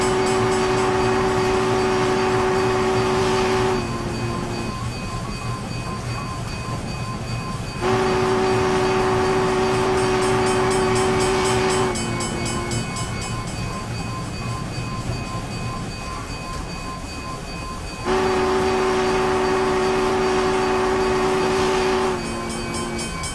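UP Challenger steam locomotive in Train Simulator on Donner Pass, its horn sounded in three long, loud, steady blasts separated by quieter gaps of running rail noise.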